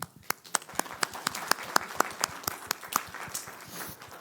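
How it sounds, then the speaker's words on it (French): Applause from a small congregation during a Catholic homily for the third Sunday in Ordinary Time, made of separate hand claps in a steady, roughly even rhythm, close and distinct, with no talk over it. "on va applaudir papa puis maman"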